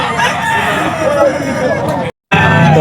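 A gamecock stag crowing at a bird sale, a loud nearby crow over a busy crowd babble with voices talking, cut by a brief dropout near the end.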